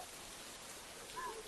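Steady rain that has been falling since the previous night, a faint continuous hiss of drops on wet surfaces with no talking.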